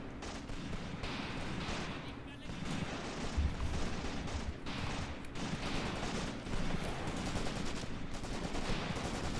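Battlefield gunfire from the WWII tactics game Graviteam Tactics at Shilovo, 1942: continuous dense rifle and machine-gun fire with heavier booms mixed in, steady and loud throughout, and no talk over it.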